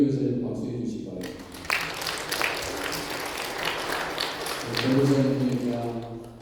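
A church congregation at a Sunday worship service breaks into applause, a dense wash of clapping lasting several seconds, starting after a brief stretch of sung or spoken tones and fading as music returns.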